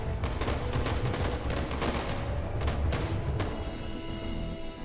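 Gunfire erupts during a standoff in the video game Lacuna, with several sharp, loud shots in quick bursts over a steady background din.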